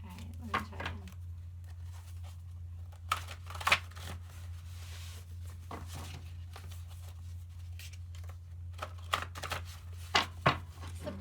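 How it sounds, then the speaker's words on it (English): Someone shuffles a deck of playing cards indoors in a few quiet bursts of riffling and flicking, separated by near silence over a low steady hum, with soft talk in places. "This is peaceful shuffling."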